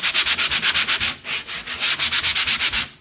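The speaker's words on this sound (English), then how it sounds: "I'm going to take some sandpaper, and I have a 120 grit, okay?" Hand sanding of a bronzed patina finish with 120 grit sandpaper, fast rhythmic back-and-forth rasping strokes close by, about four strokes a second with a brief pause midway, no voices.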